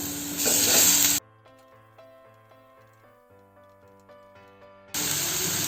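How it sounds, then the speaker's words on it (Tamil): Chopped tomatoes dropped into frying onions for a Chettinad-style quail gravy give a loud, close sizzling hiss at the start and end, interrupted by a stretch of soft melodic music with no sizzle. "கட் பண்ணி இந்த தக்காளி சேர்த்துக்கலாம்"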